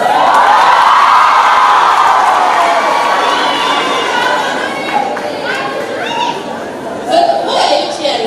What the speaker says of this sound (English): But why are you cheering me?